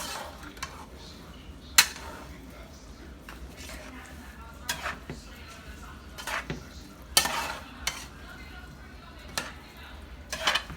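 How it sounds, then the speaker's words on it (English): Rice with peas mixed in a pot on low heat for Puerto Rican arroz, with intermittent scraping strokes and sharp clinks of a spoon against the pot over a soft background, and brief speech in places. "So I'm gonna go ahead and give it a good mix."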